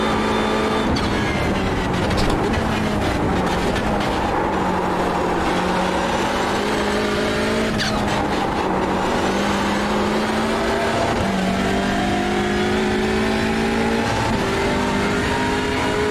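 A Hyundai Elantra TCR race car in iRacing at Imola drones steadily at high revs, its engine pitch climbing and dropping through gear changes, with faint background cars and no talk.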